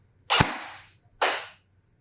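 Two loud, close bursts from a JINGJI MAXIM converted gel blaster AEG under chronograph testing, the first a sharp crack with a hissing decay, the second a shorter hiss about a second later, with no talking.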